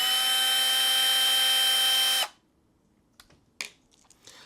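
An electric drill whirs steadily at high speed for a couple of seconds while modifying the idler gear of a Team Associated Apex 2 RC car, then cuts off, leaving a quiet room with a few small clicks and taps.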